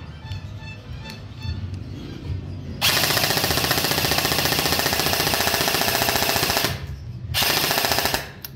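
An LDT MP5K gel blaster toy fires on full auto in two bursts, a long rapid rattling stream of shots followed after a brief pause by a shorter one, loud and close with no talking.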